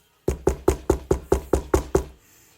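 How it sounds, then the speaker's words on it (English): Nine quick, evenly spaced knocks on a wooden desk, close and crisp, with nothing else heard. "I just love knocking on a damn desk"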